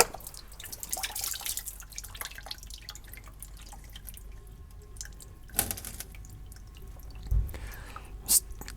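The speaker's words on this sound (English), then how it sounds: "I'm still dripping into my catch can here, which is the transmission pan." Transmission fluid from a Jeep Wrangler JK drips into the transmission pan, used as a catch can, during a fluid and filter change. Small isolated drips fall at an irregular pace, close and fairly quiet, with a few sharper plinks near the end.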